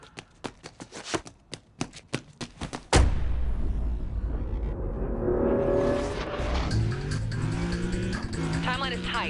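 A car's tires squeal as it struggles through a turn in the racing game Need For Speed: Undercover. A run of sharp clicks comes first, then a sudden loud surge of engine and tire noise that holds steady to the end.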